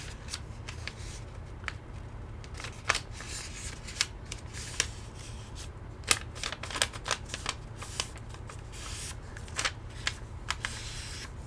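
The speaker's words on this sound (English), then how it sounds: "first we're going to fold a sheet of paper in half with the design facing the inside" A sheet of patterned origami paper is folded in half and creased, giving close, irregular crisp crackles and sharp rustling snaps over a faint steady background hum, with no talking.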